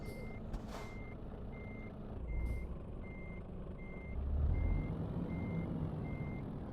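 Truck reversing beeps from a big rig in Euro Truck Simulator 2, evenly spaced electronic pips over a low idling engine rumble, heard alone with no talk.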